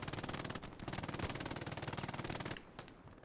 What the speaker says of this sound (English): TL2 with machine guns.